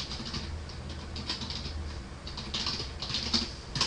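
Typing on a computer keyboard, a quick run of light clicking keystrokes, fairly close, with a faint low hum underneath and no voice.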